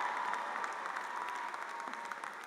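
Steady, fairly distant audience applause for an honorary doctorate recipient, an author and journalist, at a university ceremony, a continuous even patter of many hands.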